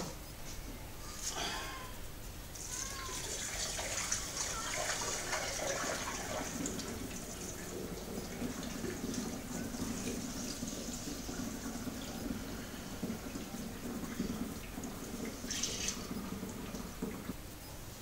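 Oyster oatmeal stout wort is poured through a funnel fitted with a sieve on a stovetop small-batch brew, a steady, soft liquid rush lasting throughout, with a few faint clinks and splashes.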